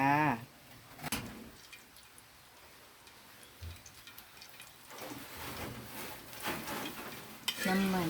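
Pangasius fish being stir-fried with pickled bamboo shoots in a spicy Thai stir-fry, a quiet sizzle with scattered clinks and scrapes of a spatula against the pan, a few louder knocks near the start and end.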